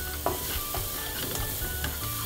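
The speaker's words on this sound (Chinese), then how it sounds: "乾葱啦，喺呢度咧，我哋就爆一爆香佢啦。" Garlic and shallots crackle as they are stir-fried in a wok, a continuous close sizzle with a few light scrapes and taps, steady and fairly loud, with no talk.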